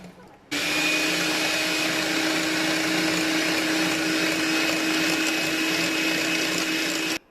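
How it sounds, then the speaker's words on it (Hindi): An electric beater whips cream with icing sugar for a Lebanese nights dessert, a steady loud whirring drone that starts abruptly after a brief quiet moment and runs evenly until it cuts off at the end. "चलें इसको बीट करती हूँ मैं अच्छी तरह से।"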